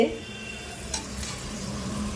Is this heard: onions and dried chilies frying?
yes